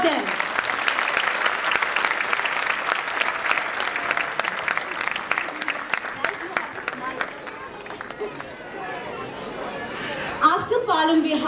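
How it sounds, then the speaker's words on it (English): An audience at a 2017 school annual function applauds for the nannies and young performers, a dense, steady wash of clapping with some crowd chatter that thins out toward the end. "So can we applaud them?"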